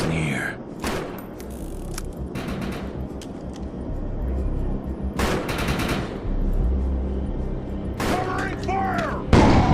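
Sustained bursts of automatic gunfire and covering fire in a battle against mutated humans, with dense rattling volleys and heavy thuds throughout, and a voice shouting briefly over the noise.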